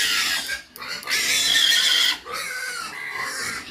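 Pigs on a backyard farm squeal loudly and shrilly in close, repeated bursts, a few long cries separated by brief pauses.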